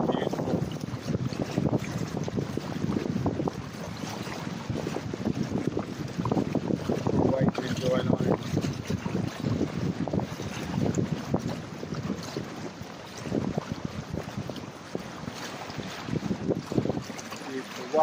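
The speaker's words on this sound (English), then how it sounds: "The gorgeous wind." Wind buffeting the microphone on the bow of a day boat cruising the Norfolk Broads from Wroxham, a steady roaring rumble with faint water wash throughout, with a voice speaking briefly now and then.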